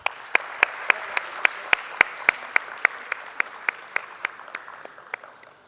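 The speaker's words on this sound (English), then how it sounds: "Please join me in giving them a round of applause." Sparse, evenly spaced claps ring out at a Women's Day gender equality event, a thin rhythmic patter of a few hands over faint room murmur that gradually softens.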